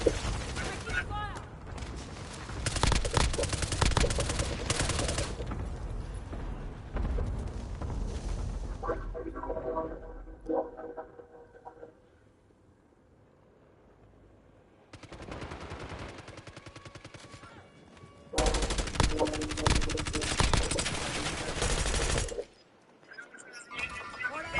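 Bursts of automatic gunfire in a Call of Duty multiplayer match come in loud rapid volleys, separated by quieter gaps of game sound and effects, with a brief electronic tone in the middle.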